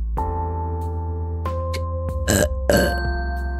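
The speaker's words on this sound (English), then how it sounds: "Yeah, I burped." A loud, drawn-out burp sound effect from a fangame of Your Boyfriend, two rough gurgling bursts near the end over a steady tonal game music bed.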